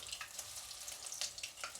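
Fish fillets fry in hot oil in a pan over lowered heat, turned gently with a small fork; a soft, steady sizzle with scattered light crackles, faint and close, with no talking.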